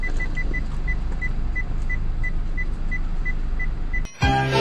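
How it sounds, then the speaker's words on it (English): A short electronic beep repeats at a steady, quick rhythm over a dull rumbling background, ending with a sudden louder burst of noise. "Hear that beep?"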